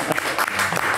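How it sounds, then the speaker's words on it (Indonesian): Brief burst of clapping from a school gathering of students and teachers, dense and continuous for about a second, fairly loud and close. "Tepuk tangan."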